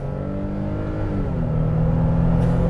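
A 2022 Nissan Frontier PRO-4X pickup truck launching in four-wheel drive, its engine held at a steady drone and then climbing in pitch as it revs and pulls away, loud and close with no talking.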